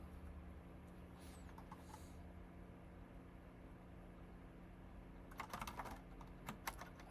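Keys clatter on a new computer keyboard during a coding session, first as a faint low hum and then in a quick run of sharp, close clicks near the end.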